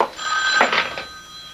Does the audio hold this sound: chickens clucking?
no